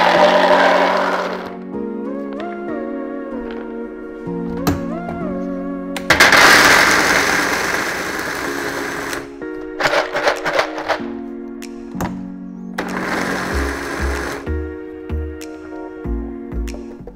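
A kitchen blender crushing hazelnuts for a homemade chocolate-hazelnut spread: a loud, close motor whine that shifts in pitch, with several stops and restarts and short pulsing bursts toward the end, no voices.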